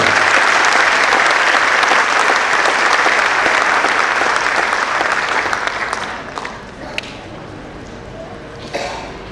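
At an evening program honouring mothers and fathers, a large seated crowd gives loud, dense applause that holds strongly for several seconds, then fades into scattered claps and a few last taps.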